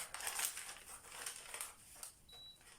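Quiet paper crinkling and rustling as scissors cut through a paper sewing pattern, soft irregular snips close by with no talk.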